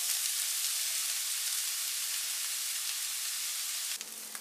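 Onion frying in a pan of oil, a steady dense hiss and crackle that stays loud and even throughout, with no voices.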